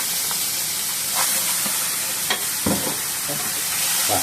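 A spice paste dropped into hot oil in a heavy pan sizzles loudly and continuously, with bursts of crackling and stirring scrapes through the few seconds of frying.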